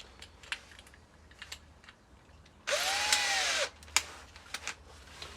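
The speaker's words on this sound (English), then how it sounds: "So I'm just going to put this in the vise and work my way around with the wire wheel" A wire wheel cleaning a 1998 Honda Civic rear control arm held in a vise: about one second of steady, harsh, loud grinding whir between faint scattered clicks and taps.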